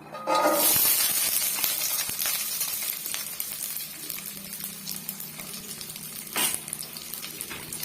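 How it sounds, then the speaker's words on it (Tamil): Garlic cloves dropped into hot sesame oil for a South Indian garlic pickle burst into a loud sizzle up close, which settles into steady frying hiss with stirring scrapes and a brief flare-up later. "இப்போ நம்ம க்ளீன் பண்ணி வச்சிருக்க வெள்ளைப்பூண்டை வந்து சேர்த்துக்கலாம்"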